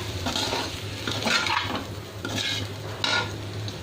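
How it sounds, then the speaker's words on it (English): Brinjal is stirred with masalas in a pan, giving soft, repeated scraping strokes of a spoon against the pan over a low, steady sizzle, close up and with no talking. "Again we'll stir the whole thing for a minute so that the masalas are done."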